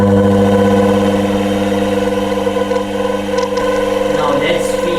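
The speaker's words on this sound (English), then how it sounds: "I have to rotate this rotor or the pulley of the alternator at a high RPM" Car alternator rotor spun at high RPM by a DC motor, giving a loud, steady mechanical whine with a strong constant tone and harmonics that stays unbroken throughout, close up.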